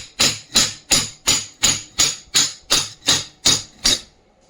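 About ten evenly spaced, sharp hammer blows strike a high-speed electric fan being taken apart for coil replacement, each a loud close metallic knock with a quick decay, sounding alone.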